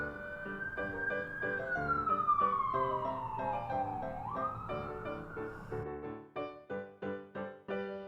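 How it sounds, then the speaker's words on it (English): Emergency sirens blaring: a long wailing tone sweeps slowly down and back up over steady background tones, then switches to rapid pulsing yelps near the end, with no voices. "And some sirens for your viewing pleasure."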